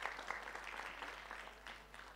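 An audience at a live stage event applauds singers after their songs, with many hands clapping in a continuous patter of moderate loudness.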